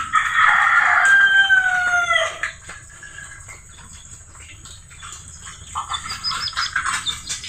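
A farm rooster crows once, loud and near, with a long drawn-out call, followed by quieter clucking and scattered bird chatter over a soft outdoor background.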